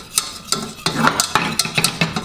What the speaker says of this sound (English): Get yourself a whisk. And dump your flour in.